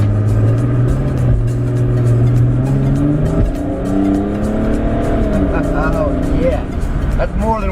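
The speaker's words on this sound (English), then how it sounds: "That's more than whistle. That's engine and whistle." A stage 2+ modified BMW E90 335d pulls away from a stoplight, its engine note rising steadily with turbo whistle on top, loud and close from inside the car, with someone talking over it.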